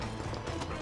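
Horse hooves in Red Dead Redemption clop in a quick, muffled galloping rhythm, close and steady under a low rumbling background for a brief moment.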